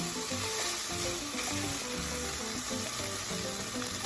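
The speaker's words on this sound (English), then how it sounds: "all of that liquid evaporated right out of it, and it's been searing" Meat searing in a pan for a potato and poblano stew, its juices cooked off, giving a steady close sizzle and crackle with no voices.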